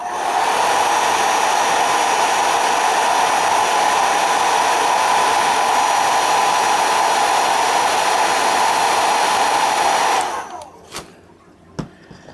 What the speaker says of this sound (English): Just gonna heat set it real quick